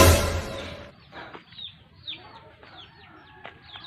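A chicken clucks in short, scattered bursts after a loud rustling thump at the start, with faint background noise between calls.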